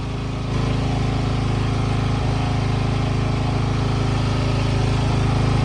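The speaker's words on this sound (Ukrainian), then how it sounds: "Робить генератор, то може буде поганий звук." A generator runs steadily through the whole clip at a farm with no mains power, a loud continuous droning hum with strong low harmonics, close by and alone without talk.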